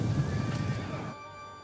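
Horses whinny and neigh among mounted horse archers in the Rome 2 video game, a short rising whinny over low rumbling battle ambience that fades out.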